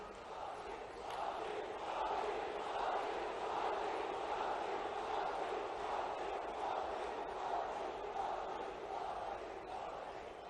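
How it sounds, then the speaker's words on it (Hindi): A large crowd at a Madhya Pradesh public rally welcomes Prime Minister Modi with sustained, dense clapping and cheering that holds steady and loud throughout, with a broad roar of many voices mixed in. "एक बार दोनों हाथ ऊपर उठा के तालियां बजा के स्वागत कीजिए मोदी जी का"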